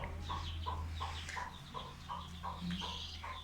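Backyard chickens cluck in short repeated bursts, close and steady throughout, over a low constant hum.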